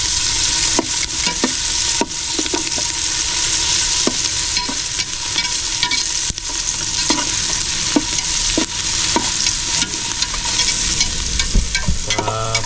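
Garlic sizzles steadily in a hot pan for the whole stretch, with occasional clicks and scrapes of stirring breaking through the continuous frying hiss.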